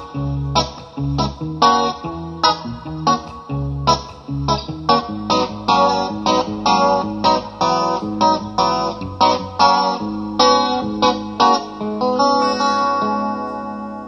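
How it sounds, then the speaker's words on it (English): A Roland VG-99 guitar modeling unit with the bottom strings set as guitar and the lower strings as a modeled bass, playing a rhythmic riff of punchy low bass notes under chords, loud and continuous with no talking. "I'd like to show you now how to combine guitar and bass"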